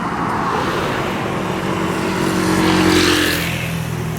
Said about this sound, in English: Alright, so we're holding for traffic.